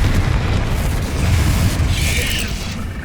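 A Confringo spell explosion in the Hogwarts Legacy video game bursts into a loud, sustained rumbling boom that fills the whole stretch, with a brief hissing flare near the end.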